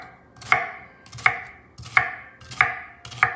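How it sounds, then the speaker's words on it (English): Knife chopping an onion on a board into even pieces, five sharp evenly spaced cuts about every 0.7 seconds, close and crisp with no talking. "So here's the onion. We're going to cut this into even pieces."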